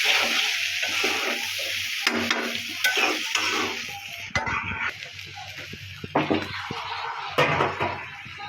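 Soaked rice frying in a pot while being stirred for khichuri, a continuous sizzle broken by scraping and knocks of the spoon against the pot, with a few louder clatters.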